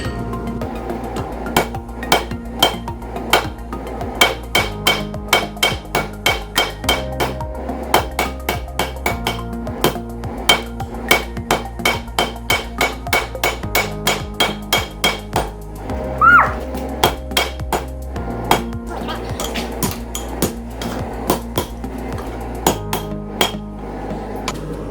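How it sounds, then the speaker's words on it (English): Blacksmith's hammer forging a taper on a pair of railroad spike tongs, with steady rhythmic ringing blows on hot steel and the anvil, in bursts separated by short pauses, loud and close, with no talk. "we're just gonna forge it back and get this nice taper in there"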